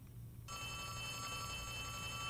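In Poppy Playtime Chapter 3, an old-style telephone bell starts ringing abruptly and keeps going in one steady, loud, metallic trill over a low hum.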